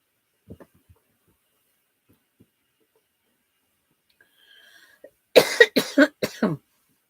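A quiet stretch with a few faint clicks, then a burst of several harsh coughs in quick succession, close and loud.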